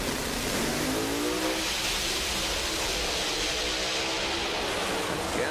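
Two blown pro mod drag race cars launch in the final round at an NHRA SuperNationals meet, a loud, roaring engine wash heard from a distance with rising pitch and steady crowd-like noise.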